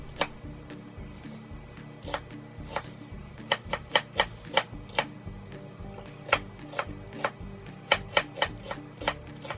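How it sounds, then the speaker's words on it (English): A knife slices vegetables for a corned beef casserole, a series of sharp, distinct chops against a cutting board in an irregular rhythm, close and fairly quiet. "We're only going to slice them instead."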